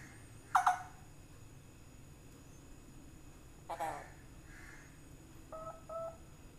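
A parrot imitates mobile phone keypad tones: three short bursts of beeping notes spaced a few seconds apart over faint background noise.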